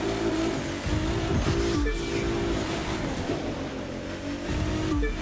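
Nissan GT-R Nismo GT3 race car in The Crew 2 racing game, its engine droning loud and steady with shifting pitch and brief revs throughout, no talking over it.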